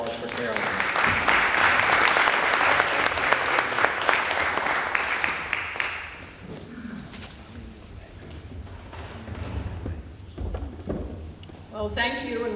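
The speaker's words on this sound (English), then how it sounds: "Can we have a warm round of applause for Caroline?" An indoor audience gives a warm round of applause for a speaker named Caroline, heard as steady, loud clapping that fades after about six seconds into a quieter room with scattered sounds.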